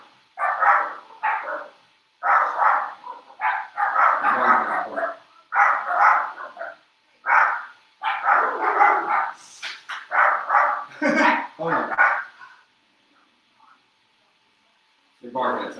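A dog barks repeatedly in close, loud bursts, with short pauses between volleys, then falls quiet before one last bark.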